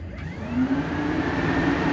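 The Kubota engine of a PowerVac APV vacuum truck starts up and settles into a steady, loud drone with the humming, fan-like whir of its fans.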